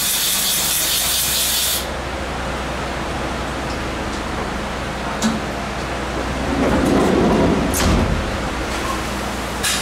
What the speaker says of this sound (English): I'm just going to blow it out and make sure there's no swarf in it that might vary the readings.